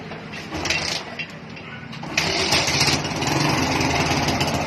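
A small engine cranks and catches after its wiring was redone, sputtering at first, then settling into a steady, fairly loud idle. A clatter comes as it starts, and the running note stays even once it takes hold.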